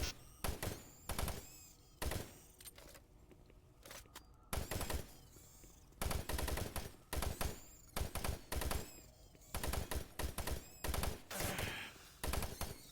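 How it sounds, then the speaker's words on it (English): A machine gun fires in Doom 3 in rapid repeated bursts of varying length with short gaps between them, loud and sustained over a low background. "now you switch over to the machine gun"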